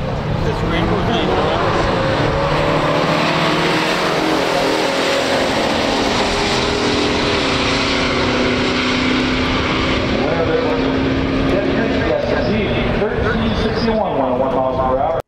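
A 1969 Pontiac GTO Ram Air 400 and a 1968 Plymouth GTX 440 drag racing side by side: a loud, sustained, rising roar of V8 engines, with a commentator talking over it throughout.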